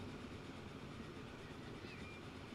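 A train in the video game Transport Fever 2 runs along the rails with a steady, even rumble, continuous and unchanging for a few seconds, with no talking.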